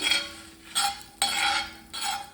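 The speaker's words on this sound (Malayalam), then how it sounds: "ഇതൊന്ന് ഡ്രൈ റോസ്റ്റ് ചെയ്യുക. എണ്ണ ഇടേണ്ട ആവശ്യമില്ല, കരിയാനും പാടില്ല." Garlic is dry-roasted without oil in an iron pan, giving three or four rasping bursts of stirring and scraping, each separated by short pauses.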